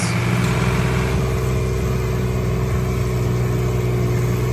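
An International Harvester 986 tractor engine runs at a steady idle, a continuous low, loud drone with a constant throb and no pauses.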